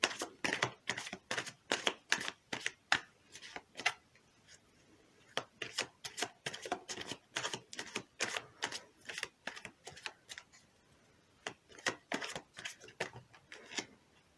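Tarot cards being shuffled, a long run of crisp, rapid card flicks and snaps in close succession, pausing briefly midway before resuming, near and fairly loud in a quiet room.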